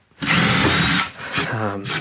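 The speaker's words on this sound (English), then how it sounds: "I'll take my wood here, as you can see, and I'll pre-drill the holes." A power drill bores pilot holes into wood for building I-beam sawhorses, a loud close whine lasting about a second, then a shorter burst as the bit spins down, with a voice briefly heard.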